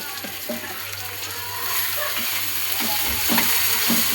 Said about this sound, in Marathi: भाजून घेऊया टोमॅटोला